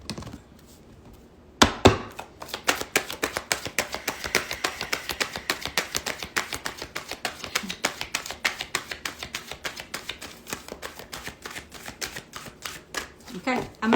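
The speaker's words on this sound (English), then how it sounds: "Okay, I'm going to shuffle one more time to see if that deck has anything to say." A tarot deck is riffled and shuffled nearby in a fast, continuous run of crisp card flutters and taps, beginning after a brief quiet moment.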